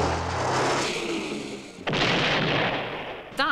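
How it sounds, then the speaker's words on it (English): A large explosion from a 1970s TV action show after a car chase: a sustained loud rumbling blast that swells and holds for several seconds, then a second heavy burst around the middle, with a brief sharp crackle near the end. "which end with a very big explosion."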